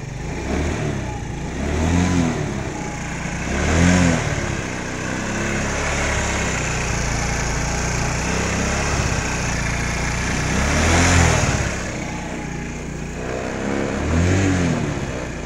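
A gasoline scooter engine runs at a steady idle close up, swelling into short revs roughly every couple of seconds and dropping back each time, with no talk over it.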